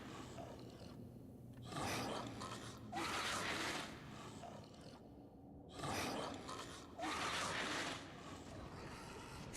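Monster in a video game breathing close in the face, slow heavy rasping breaths that swell and fade in repeated cycles with quiet gaps between, low in level.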